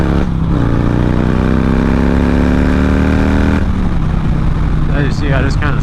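Harley-Davidson Softail Fat Bob motorcycle accelerating hard, its engine note rising steadily, then stumbling as third gear slips and chugs before the revs drop and climb again; loud and close throughout.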